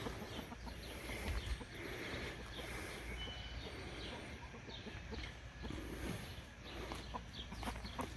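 Chickens let out of their coop cluck in soft, scattered bursts amid low outdoor background noise, faint and fairly distant, with no talking.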